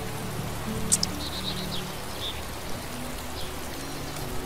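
Rain falls in a constant, even patter, with a few faint high chirps briefly rising above it.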